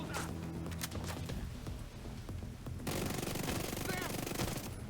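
Shotgun fire in The Division 2 shooter game, loud and dense battle noise with bursts of gunfire that runs without a break through the whole stretch.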